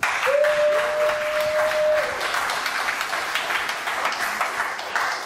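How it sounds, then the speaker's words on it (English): An audience at a startup accelerator demo day breaks into sustained applause, a broad crowd of clapping hands holding steady throughout, with a brief sustained tone sounding faintly above it early on. "let's have a round of applause for the audience"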